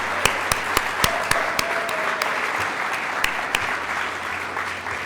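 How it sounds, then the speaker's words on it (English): A room of chapter award attendees gives a sustained round of applause for the Wake Forest chapter, with a few loud, sharp claps standing out near the front over the steady crowd clapping. "I'd like you all to join me in a round of applause for the Wake Forest chapter"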